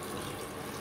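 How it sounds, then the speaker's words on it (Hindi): Water pours steadily into a pressure cooker holding chana dal, a soft continuous splashing rush at close range with no talk, lasting under a second. "तो अब वाटर मैं इसमें ऐड कर रही हूँ"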